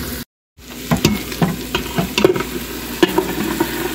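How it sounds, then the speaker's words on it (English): Chickpeas and onions sizzle in a pot for a spiced chickpea chicken stew with coconut and turmeric, with a spoon scraping and stirring in short irregular strokes over the steady frying hiss. "Dump the 2 cans of drained and rinsed chickpeas in there. Stir this around and let the chickpeas cook a little bit."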